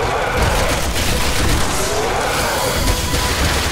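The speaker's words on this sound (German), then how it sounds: "Okay, explodiert hier." An explosion in the video game Resident Evil 6, a dense, loud rumbling blast with crackling debris that fills the whole moment at a steady level.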